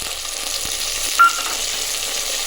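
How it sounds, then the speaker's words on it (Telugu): Spices, onion, chilli and curry leaves sizzle in hot oil for gongura pulao, a steady frying hiss with one brief sharp clink partway through. "ఆయిల్ హీట్ అయిన తర్వాత మసాలా దినుసులు యాడ్ చేసుకోవాలి"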